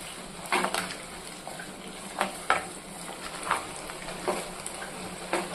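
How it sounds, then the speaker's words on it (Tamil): Steady sizzling of garlic and onion frying in a pan, with occasional scraping clatters as it is stirred, close and moderately loud. "இப்போ நம்ம சேர்த்துக்கிட்ட பூண்டையும் வெங்காயத்தையும் நல்லா வதக்கிக்கலாம்"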